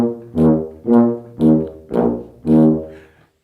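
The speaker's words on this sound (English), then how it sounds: "It's very simple, and it just oompas all the way down when you're marching with the band." A tuba in C plays a simple oompah marching-band bass line, five separate, detached low brass notes in a steady, evenly spaced rhythm, close and loud, with no voices.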